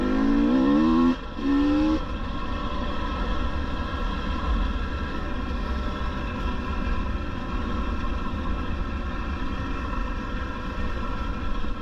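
A 2022 GasGas EC 300 two-stroke enduro motorcycle engine running steadily with a droning buzz, after a brief rising rev and a short cutout near the start, continuous and fairly close without speech.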